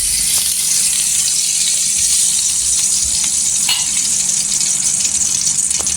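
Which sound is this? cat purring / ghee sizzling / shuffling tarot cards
ghee sizzling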